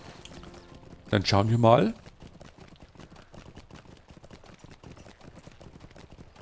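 Horse hooves clip-clop in a steady, fast rhythm while riding in the video game Lord of the Rings Online, heard under someone speaking German.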